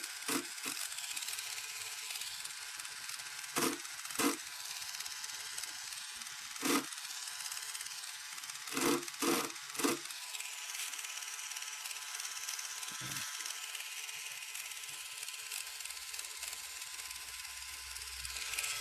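A pedicure foot file rasps over the wood of a vintage parlour guitar being refurbished, a steady close scratchy grinding with a few sharper knocks.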